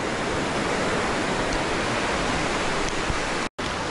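Ocean waves break and wash onto a beach in a continuous, loud rushing hiss that barely changes over a few seconds, with one abrupt dropout near the end.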